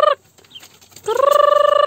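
Farm chickens on a hillside field, a short cluck followed by a brief quiet gap, then a loud, close, drawn-out squawking call with a rapid pulsing rhythm.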